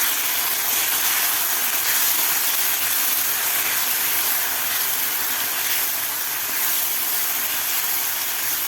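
Masala of raw onion and garlic sautéing in a pan for palak chana masala, giving a steady, even broadband sizzle and hiss that holds without a break, fairly close and alone.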